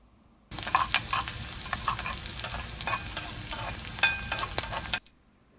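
Fenugreek, ginger, garlic, curry leaves and chopped green chili fry in hot oil for a Kerala egg curry, giving a steady, close crackling sizzle with sharp spits and stirring scrapes throughout, then stopping abruptly.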